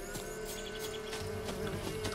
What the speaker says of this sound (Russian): Какие-то мухи ебучие.